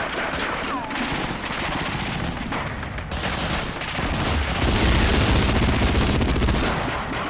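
Sustained gunfire aimed at a machine-gun nest on a hill in Medal of Honor: Frontline, a loud, dense rattle of shots and bursts running without a break under a steady, noisy battle backdrop.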